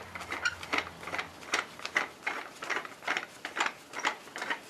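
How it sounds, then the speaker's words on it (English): A screw clamp is wound open, giving a close, quiet run of rhythmic ratcheting clicks and creaks that repeat steadily throughout. "you can open these screw clamps up quite big. This is how you wind them like this"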